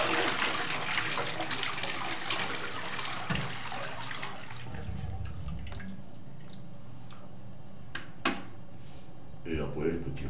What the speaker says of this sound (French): Je vais tirer la petite chasse.